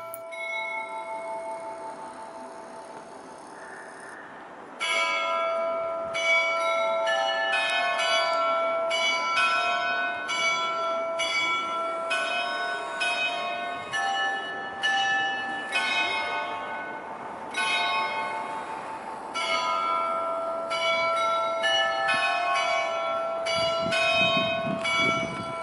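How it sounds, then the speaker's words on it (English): Church bells at St. Michael's Golden-Domed Monastery in Kyiv, Ukraine, chime the Ukrainian national anthem as a melody of ringing, overlapping tones from a big bell tower, loud and sustained with no talking. "The monastery's bells are playing the Ukraine national anthem."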